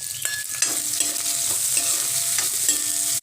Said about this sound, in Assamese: যিখিনি তেল ৰৈ গৈছে এইখিনি তেলতে মই পিঁয়াজখিনি ভাজি ল'ম